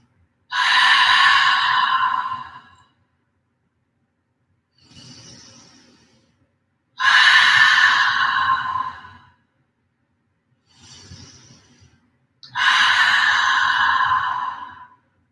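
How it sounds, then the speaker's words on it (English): Three long open-mouth exhales mark the close of a vinyasa yoga session, each a loud, breathy rush lasting about two seconds, separated by quieter inhales, evenly paced and close up with no talking. "seal tonight's practice with 3 rounds of breath, letting it be an open mouth exhale each time"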